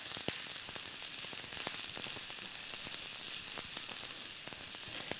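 Coconut curry taco filling sizzles steadily in a pan, loud and close, with regular clicks and scrapes as it is stirred.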